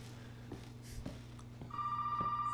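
A telephone rings in the horror video game Resident Evil 7, quiet repeated bell-like trills over a low background hum, building to a sustained steady ring near the end.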